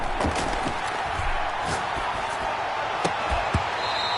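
A dense football stadium crowd roars in a video game broadcast, a loud continuous wash of cheering with scattered thumps and claps, and a voice speaking faintly beneath it.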